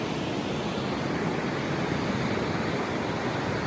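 Water from the Srisailam dam sprays down like rain, a dense, even broadband rush that stays constant and loud throughout with no breaks or talk.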